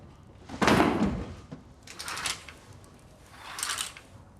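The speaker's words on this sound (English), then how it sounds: "Thought I heard someone knocking." Someone knocks on a door in three separate bursts of quick raps spaced a second or so apart, fairly close, with no talk.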